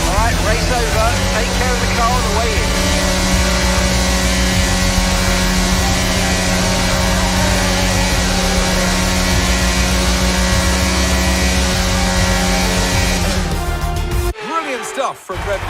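F1 22 race car engine in the video game, droning steadily at cruising pace on the in-lap after a race at the Mexican Grand Prix, loud and continuous with a commentator's voice over it, cutting off abruptly near the end.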